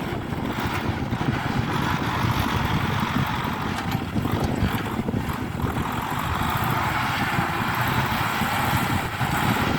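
A Kubota M6040 tractor ploughing a dry, dusty field in second gear, its engine droning loud and steady at close range throughout, with no talking.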